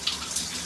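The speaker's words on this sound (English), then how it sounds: "That's forcing the water and forcing the lotion debris and forcing the soap debris out." Water rinsing out of the spout of a lotion bottle's flip-cap, flushing out lotion and soap residue: a brief, close splashy gush of running water lasting under a second.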